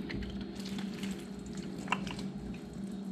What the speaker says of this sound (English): next I'm going to stir in my pasta.